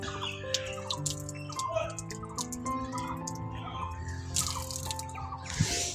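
Water runs and splashes from a public drinking-water tap outdoors on a walking trail near Chobhar, heard steadily under background noise, with a rooster clucking nearby and a brief voice.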